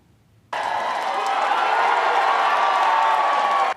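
Supporters of Australian Prime Minister Anthony Albanese and the Labor Party cheer and applaud at an election-night victory celebration, a loud, sustained crowd roar that starts abruptly and holds steady for about three seconds.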